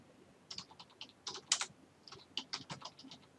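Quick bursts of typing on a computer keyboard while entering a caption in Word 2016. Short, irregular clusters of close, crisp key clicks sit against a quiet background.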